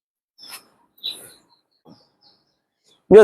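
A few brief, faint pigeon calls scattered through a quiet high-flying pigeon loft, ending with a sudden louder, harsher sound.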